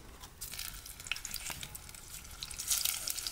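A whole pepper cooks in a pot of hot oil, giving a steady close sizzle and crackle throughout with small bursts of spitting, and no voices.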